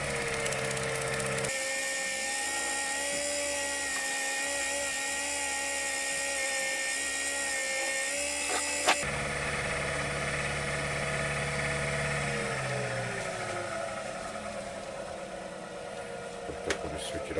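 A wood lathe whirs steadily at higher speed with a high, tonal spinning hum and a faint vibrating rattle underneath, its pitch shifting slightly partway through as the revs are turned up.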